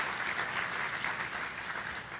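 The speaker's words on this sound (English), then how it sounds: "Please give them a round of applause." Steady applause from a crowd, dense and continuous clapping throughout without any voices on top.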